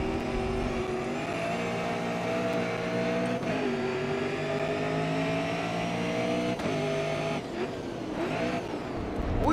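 A race car engine in Grid Autosport revs and holds high, droning steadily with brief shifts and dips in pitch, loud and continuous with no voices over it.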